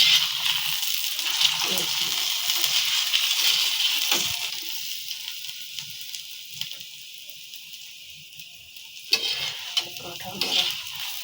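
Saag paratha frying and sizzling on a hot pan for a Punjabi winter meal, with a steady close crackle, occasional stirring and scraping, and a brief louder clatter near the end.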